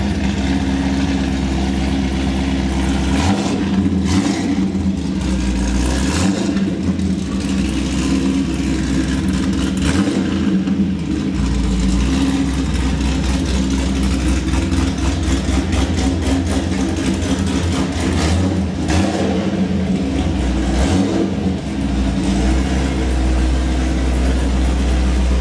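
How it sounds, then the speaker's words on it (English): A 2015 Chevy SS with its exhaust fitted idling with a deep, steady rumble, broken by several sharp revs that swell and fall back, close and loud. "I think his car sounds better with the exhaust on and not straight pipe."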